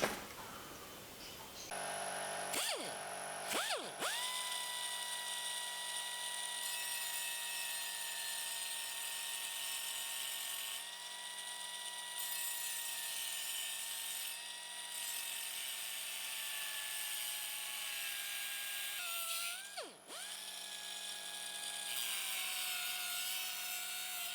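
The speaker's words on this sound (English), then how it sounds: "Let's go and grind this off." A bench grinder shrieks against a steel putty knife being ground into a card scraper, a sustained high metallic whine after a short start, dipping briefly twice as the blade is lifted and pressed again.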